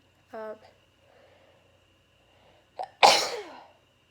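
A woman sneezes once indoors, a sharp loud burst preceded by a brief inhaled catch, after a short vocal sound and near silence.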